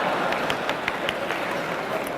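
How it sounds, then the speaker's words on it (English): A debate audience claps in a dense, steady wash of applause that sounds fairly close and continuous, with no voices over it. "Then hold your applause, for heaven's sake."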